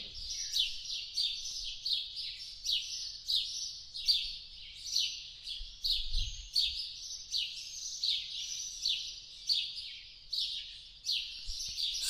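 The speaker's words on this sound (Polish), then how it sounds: "posłuchać jak te ptaki śpiewają" Birds sing and chirp continuously at night in a town on the Camino, bright, rapid repeated phrases, fairly close, with faint low background rumble and no talking.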